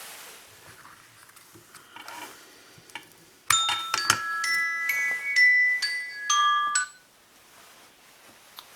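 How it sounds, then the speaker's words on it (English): An electronic two-hour timer goes off beside a Habu STS battery charger, sounding a bright multi-tone chiming melody for about three seconds after a quiet stretch, loud and close with no speech. "That was my 2-hour timer."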